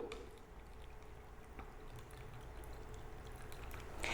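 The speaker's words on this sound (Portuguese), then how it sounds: "a tia vai colocar água primeiro nesse solo que está plantado" Water poured from a container onto soil with plants in it during a classroom science demonstration, a quiet continuous trickle heard close up, with a small splash at the end.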